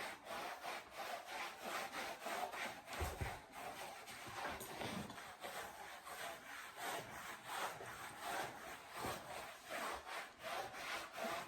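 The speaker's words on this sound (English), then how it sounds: "And according to Senna, it's a place that they're generally always gonna like being curried." A curry comb scrubs over a horse's coat during cold-weather grooming, giving steady rhythmic rasping strokes that repeat close and fairly loud throughout, with no talk.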